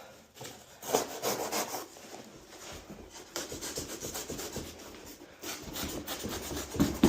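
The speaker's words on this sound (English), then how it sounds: "Sometimes cardboard just doesn't like to cut that well." A knife cutting through cardboard while packing used car parts for shipping, close rasping, sawing strokes in irregular bursts with short pauses between them.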